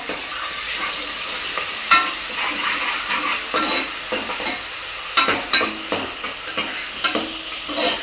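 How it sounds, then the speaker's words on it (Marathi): Mutton masala paste stirred and frying in hot rendered fat, a steady bright sizzle with scraping stir strokes and a few louder spits near the end, close and without talk. "आपण याच्यामध्ये मटणासाठीचं वाटण केलं एक चमचाभर घालून घेऊया आणि दोन मिनिट चांगलं परतून घेऊया"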